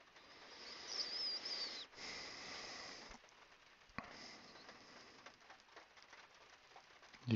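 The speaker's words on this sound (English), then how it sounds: "It's raining right now." Soft, steady patter of rain on a roof and windows, a constant hiss that swells slightly early on, heard faintly with no voices.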